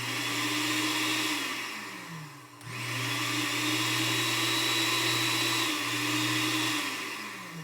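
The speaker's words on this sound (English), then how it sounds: "And there's a blender that was thrown to the trash. It works." A discarded but working blender's motor runs loudly and continuously, its hum briefly dipping and recovering in pitch as the load shifts, with no voices.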